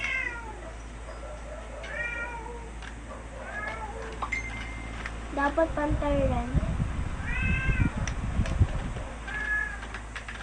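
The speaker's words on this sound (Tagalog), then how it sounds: "Sorry guys kung maingay talaga. Kahit pusa talaga namin yun." A cat meows several times, high and drawn out, nearby while a person talks over it.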